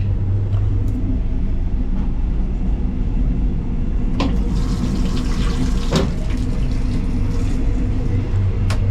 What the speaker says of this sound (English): It flushes